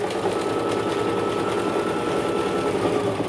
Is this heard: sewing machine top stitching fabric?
yes